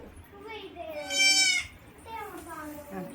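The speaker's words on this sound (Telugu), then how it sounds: "కుక్క పిల్ల కాదు, మేక పిల్ల." A baby goat bleats in a few wavering cries close by, the loudest in the middle, with people talking around it.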